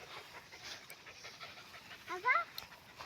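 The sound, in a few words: puppy panting while trekking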